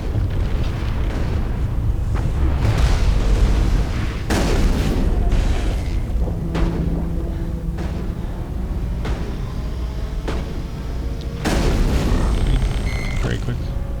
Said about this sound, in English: So I just threw that guy using the biotics, and I'm gonna hit him with the shotgun.